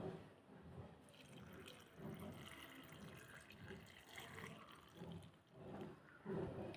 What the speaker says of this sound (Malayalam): തിളപ്പിച്ചാറിയ വെള്ളം ഇതിലോട്ട് ഒഴിക്കുകയാണ്.